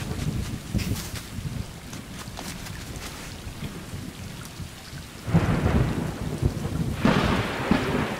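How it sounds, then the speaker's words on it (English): Heavy rain and rolling thunder from a thunderstorm in the video game Stray, loud and continuous, with the downpour swelling sharply twice toward the end. "It's storming."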